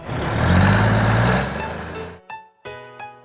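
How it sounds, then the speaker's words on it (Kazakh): A truck engine rumbles loudly and close for about two seconds, then cuts off abruptly, leaving short bursts of background music. "Жүк көлігі."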